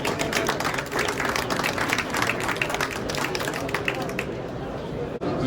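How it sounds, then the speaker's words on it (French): Sustained applause from an audience at an agri-food awards ceremony at the Paris agricultural show, dense steady clapping that carries on for several seconds before thinning out near the end. "On va l'applaudir."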